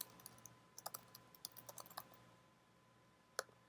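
Typing on a computer keyboard, a quick run of light clicking keystrokes, then a pause and one final key press, quiet and close with no voice.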